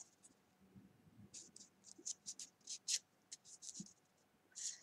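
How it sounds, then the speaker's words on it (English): Paper is folded by hand for a kusudama flower, giving quiet, close crisp creases and rustles in short uneven bursts, a few sharp scrapes standing out against near silence. "Take this corner and fold it up to this point, just like this."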